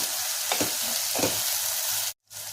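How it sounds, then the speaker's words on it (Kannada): Mushroom biryani ingredients fry steadily in hot oil with a continuous close sizzle, broken by a couple of soft stirring scrapes and a brief dropout near the end; no one speaks. "ಇದೆಲ್ಲ ಚೆನ್ನಾಗಿ ಕ್ಲೀನಾಗಿ ಫ್ರೈ ಆಗಬೇಕಿದು"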